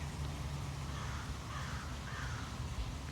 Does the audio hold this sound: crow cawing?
yes